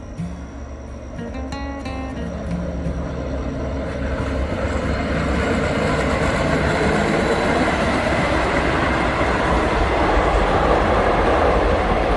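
A train passes along a railway line in Mukdahan province, Thailand, with a steady, loud rumble that swells as it nears and carries on without pause. Faint clicking is heard early on, and no one speaks.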